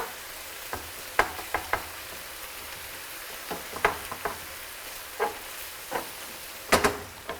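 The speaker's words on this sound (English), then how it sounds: "with a nice hot pan, so your mince fries and doesn't stew in your pan" Minced beef for chilli con carne frying in a hot pan, a faint steady sizzle broken by scattered clicks and scrapes as a spoon breaks up and stirs the meat.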